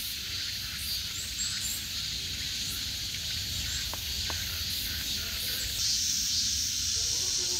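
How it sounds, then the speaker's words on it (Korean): Cicadas drone loudly and steadily in a dense forest at a campsite, making a continuous high buzzing that never lets up and swells slightly near the end, with faint low background rumble beneath it. "매미 소리가 장난이 아닙니다."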